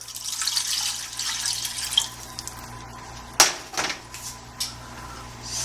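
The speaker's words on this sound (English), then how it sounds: "Then you add in 2 cups of water." Water pours steadily into a saucepan with a bright splashing flow, followed by a brief metallic clink and a few softer splashes.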